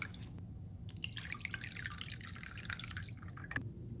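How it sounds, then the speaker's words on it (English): Fresh lemon juice dripping and trickling for gluten-free lemon bars, a faint, close, steady patter of small splashes with no talk. "Here comes the lemon juice, 6 tablespoons."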